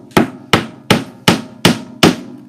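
Six sharp, evenly spaced hammer blows drive a wooden peg down into a bow-making board, each strike loud and close with a short ringing decay, no voices.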